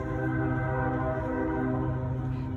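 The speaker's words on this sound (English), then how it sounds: "Hear the train." A nighttime garden scene with a train in the distance, its sustained horn-like tones droning steadily and fairly faintly throughout, with no voices.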